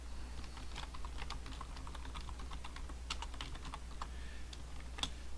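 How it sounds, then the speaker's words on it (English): Fingers type quickly on a computer keyboard nearby. The light, irregular key clicks sit over a low, steady hum in a quiet room. "So I can type in"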